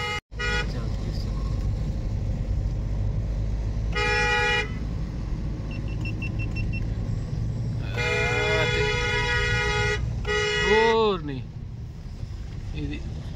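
Car horns honking on the mountain road to Manikaran, several sustained blasts and one wavering tone over steady engine and road rumble from inside a moving Baleno.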